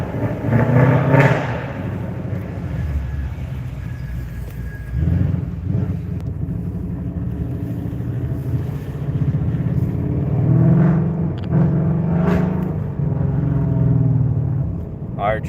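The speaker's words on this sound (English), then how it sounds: "Because of the way it's lopey, it messes with the throttle when you're trying to back up and stuff." A 2020 Ford Mustang idles with an uneven, lopey rumble, broken by a few thumps and some throttle changes, while someone talks over it.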